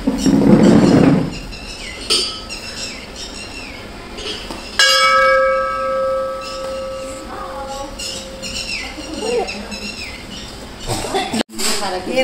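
A bell rings out with a sustained, clear tone that lingers for several seconds amid household bustle, with voices and movement around it.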